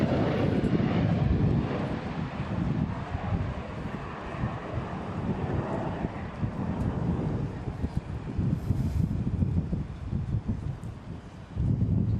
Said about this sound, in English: Absolutely thrilling to see that airplane come down from its first flight.